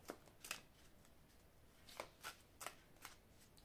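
Oracle cards being shuffled by hand in short crisp riffling bursts, several quick flurries separated by pauses, faint and close in a quiet room.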